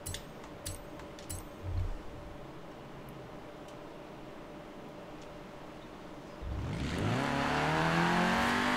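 A Peugeot 205 rally car in Forza Horizon 4 idles faintly at first, with a few light clicks, then its engine revs up loudly and climbs in pitch at the end.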